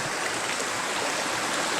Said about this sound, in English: those waterfalls, pretty deep pools